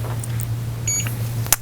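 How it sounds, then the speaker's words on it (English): A ClearReader Advanced reading device gives a few short, clear electronic beeps as it powers up, a couple of quick tones followed by a brief cluster, close and distinct over a low steady hum. "I'm going to hear it beep, and then it'll play a little"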